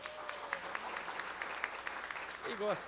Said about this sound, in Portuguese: A senhora é digna de todos os nossos aplausos e dessa grande homenagem.